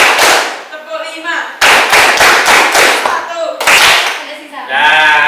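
A group claps in counted rhythmic patterns during a classroom clapping exercise, sharp clustered bursts of claps alternating with an instructor's voice calling out counts.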